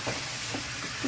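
Bitter gourd frying in a pan while being stirred, a steady bright sizzle with a few soft scrapes of the spatula, close and moderately loud, no voices.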